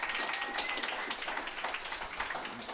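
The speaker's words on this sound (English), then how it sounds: "She deserves a huge round of applause." Audience applause at a talk on tracking pregnant tiger sharks, a steady wash of many hands clapping, faint and distant throughout.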